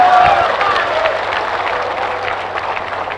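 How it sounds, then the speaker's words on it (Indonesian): Loud burst of audience applause and cheering during an Islamic preacher's question-and-answer sermon in Indonesia, strongest at the start and tapering into a steady wash of clapping. "Kalian enak aja tepuk tangan,"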